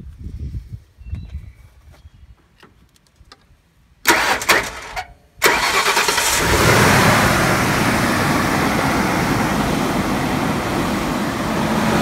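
A Ford F150 pickup truck sits quiet amid faint handling noises, then the starter cranks briefly and the engine catches, settling into a loud, steady idle close by.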